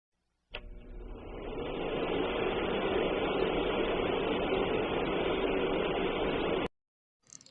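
An electric fan hums and whooshes with steady broadband air noise for about six seconds after switching on abruptly, then cuts off; close and moderately quiet, with no voices.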